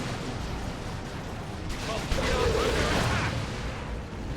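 Hive Tyrant's Venom Cannon fires in the Dawn of War 2: Retribution strategy game, a heavy booming burst that swells mid-clip over a steady bed of battle noise.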